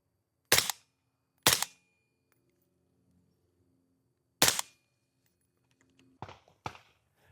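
Rifle fired through a SilencerCo Saker 556 K suppressor in full-size configuration on setting 1: three sharp suppressed reports at irregular spacing, then two softer clacks near the end, with quiet gaps between and no talking.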